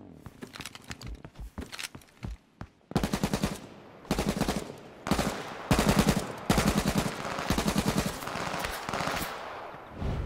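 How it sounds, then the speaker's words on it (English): Gunfire in H1Z1 opens with scattered single shots, then turns into dense, loud bursts of rapid automatic fire that continue to the end. "Hey, he's shooting at me."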